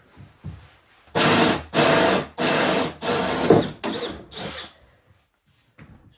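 A power drill whirs in several bursts of about half a second each, loud and close, with short pauses between them, while wiring lights on a Subaru-powered Porsche 911 replica.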